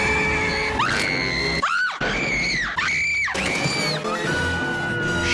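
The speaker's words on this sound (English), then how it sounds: "All this woman ever does is scream." A woman in a Batman film lets out loud, sustained screams, several long shrill cries rising and falling over a busy backdrop of film score and action noise.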